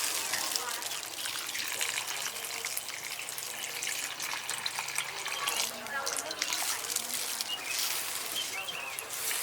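Rice-washing water poured over vegetables to pickle them, a steady close gush of liquid that keeps going the whole time, with a faint voice underneath.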